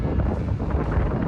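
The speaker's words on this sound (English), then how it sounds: "it's a little windy" Wind blows steadily outdoors by Lake Memphremagog in Vermont, buffeting the microphone with a continuous low rumbling roar and no talking.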